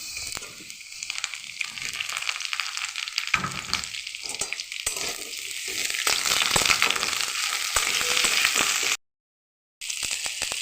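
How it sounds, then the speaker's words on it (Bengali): Vegetables, including drumstick pods and green plantain, sizzle steadily in a hot oiled pan for sukto, with scraping stirs and a brief cut to silence near the end. "এটা আবারও কিছুক্ষণ ভেজে নেব।"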